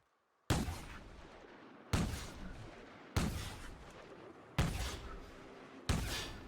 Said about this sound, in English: What the hell kind of shotgun is this?